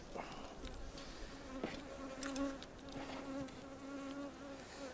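Honeybees buzz steadily around an opened hive while a colony is being split, a dense, close swarm hum with shifting pitch and no talk over it.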